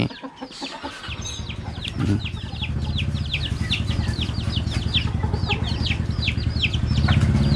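Birds being readied for training call outdoors at Khao Yai, with rapid repeated chirping notes over a dense, continuous clucking, fowl-like chatter that grows louder toward the end.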